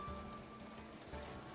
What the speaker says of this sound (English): Hopefully the rain will stop fairly soon